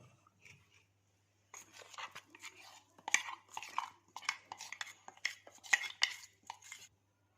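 Batter is poured and stirred in a bowl as ground rice batter goes into idli batter for thatte idli, with repeated scraping, clinking and spoon-against-bowl knocks in an irregular run, close and fairly quiet, no talk.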